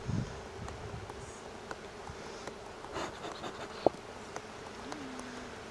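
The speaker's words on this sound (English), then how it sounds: "So I'm just using the smoker to move bees so we don't try and jam them between these bars here." Honey bees buzz around an opened hive during spring beekeeping, a steady low hum of many insects close by, with occasional faint clicks and handling noises.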